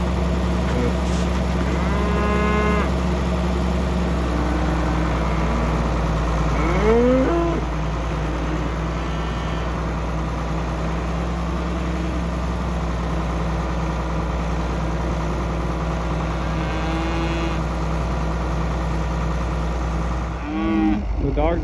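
Several cattle moo loudly at intervals on a winter ranch over a steady low engine idle, with the calls coming close and drawn out.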